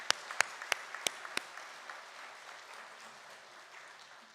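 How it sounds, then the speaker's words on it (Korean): A church congregation at a Methodist Sunday service claps for a family celebrating an elder's eightieth birthday: a few sharp, sparse claps that fade into a soft, thinning patter. "가족도 환영하고 우리 팔순도 축하하면서 박수 한번 하겠습니다"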